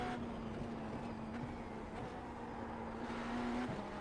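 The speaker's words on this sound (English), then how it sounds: "Listen to the car." A race car engine in the iRacing sim holds a steady, droning note at high revs with a slight pitch shift near the end, heard alone at moderate level.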